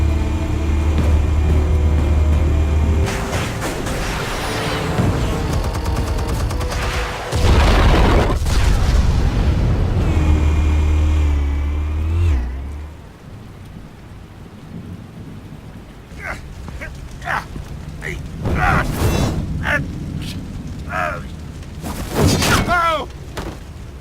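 Explosives detonate in Batman: The Telltale Series, with heavy booming blasts and rumbling debris dominating the first half, then scattered sharp crashes and cracks as the noise dies down. Voices are heard amid the action.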